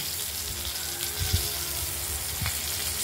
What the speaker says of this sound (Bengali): এই আলুগুলো হালকা হলুদ করে ভেজে নেওয়ার সময় ভাজা হয়ে গেছে।